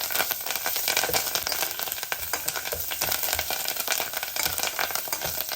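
Curry leaves crackle and sizzle in hot oil, a dense, bright spattering hiss that holds steady throughout with faint stirring underneath.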